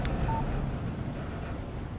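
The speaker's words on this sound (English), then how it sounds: "Text message from Barry." A short electronic text message alert tone from a phone in the video game Alan Wake Remastered, a brief beep heard early over a steady low ambient background.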